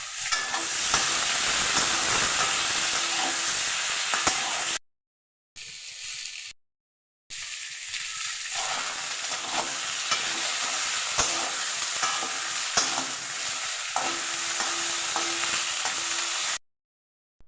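Potatoes cut for frying sizzle and crackle in hot oil in a wok while being stirred, a steady loud frying hiss with scraping stirs, broken by two short silent gaps.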